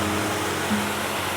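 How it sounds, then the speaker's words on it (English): A small seasonal waterfall, about six feet high, in the San Gabriel Mountains pours into a shallow pool, giving a steady, close, even hiss of falling water with no talk over it. "It's a little waterfall, but it's a super chill spot."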